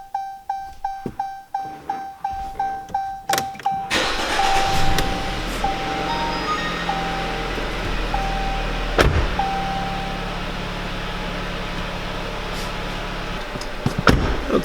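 A Jeep Cherokee's engine cranks and catches after a run of regular dashboard warning chimes, then settles into a steady close idle while a few more chimes sound; no one talks.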